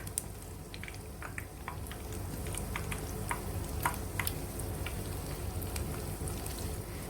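Banana bondas sputter in hot oil with a steady, dense sizzle and scattered small pops. The frying is close and continuous, with no voices.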